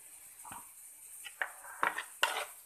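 Tandoori chicken legs being mixed with salt, red chilli and colour in a bowl make a few quiet, close clinks and scrapes of a utensil against the dish, sparse and irregular, with no talk.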